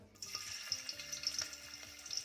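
Ginger sizzling in one or two spoons of hot oil for a Malvani white pea curry, a steady close crackle with faint stirring clicks throughout, no voices.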